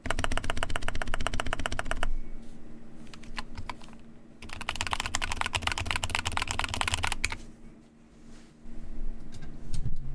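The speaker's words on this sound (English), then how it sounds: "That's the space bar." Computer keyboard typing during an evening art stream: a steady run of rapid, close, crisp key clicks with space-bar thumps, pausing briefly before resuming in dense bursts. No one speaks.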